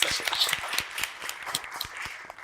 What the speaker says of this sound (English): give a round of applause for us.